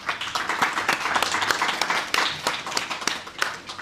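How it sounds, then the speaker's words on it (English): An audience at a BA 3 students' Muslim personal law presentation claps for the students, a steady round of dense hand claps with individual sharp strikes standing out, fairly close and moderately loud. "I'd like to ask everybody to give them a round of applause"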